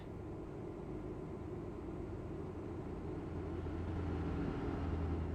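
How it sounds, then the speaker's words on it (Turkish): Continuous low droning roar of a bus retarder in Euro Truck Simulator 2, steady and broadband, swelling slightly louder toward the end, heard alone without voices. "Bu niye rötardar sesi veriyor bu araba?"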